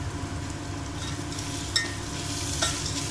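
Onion, chana dal, mustard seeds and cumin fry in a pan, giving a steady low sizzle with faint stirring and a couple of brief scrapes.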